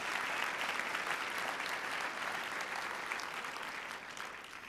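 An audience at a morning keynote event breaks into warm, sustained applause, a dense wash of many hands clapping that holds steady and then begins to taper toward the end.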